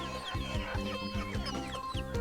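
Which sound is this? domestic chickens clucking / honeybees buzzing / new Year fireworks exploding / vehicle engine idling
domestic chickens clucking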